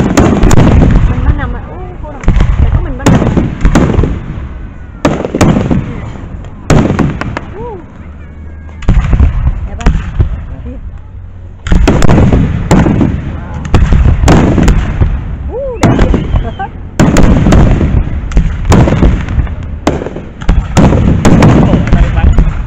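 Fireworks show exploding at the Workhouse Arts Center, with a steady barrage of loud booms and crackling bursts that come in dense clusters separated by brief pauses, while people talk nearby.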